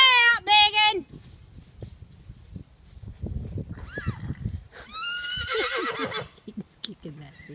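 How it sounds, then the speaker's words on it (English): Horses neigh loudly outdoors, with a sharp whinny at the start and another long whinny after a pause, amid rustling, hoof sounds and a voice in between. "I don't want him talking to these other horses."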